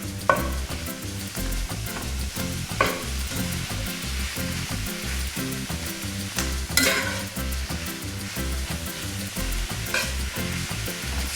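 Ground beef and onions frying in a pan, a busy sizzle broken by repeated scraping and clacking as a utensil stirs, with a few sharper bursts of crackle along the way.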